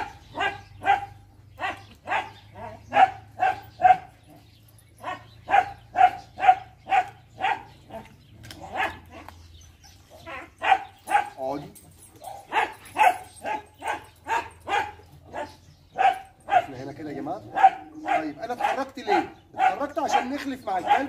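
A dog gives a long run of repeated barks with some whimpering, close and fairly loud, in the middle of an obedience training session, with a person talking throughout.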